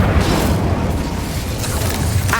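The Incendio fire spell in Hogwarts Legacy bursts out as a loud, sustained fiery roar with a low booming rumble that stays dense throughout; no one speaks over it.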